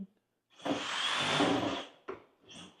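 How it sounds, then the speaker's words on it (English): A power tool saws away in the background, one sustained grinding run of about a second and a half, then two shorter bursts trailing off. "They keep sawing over in the background."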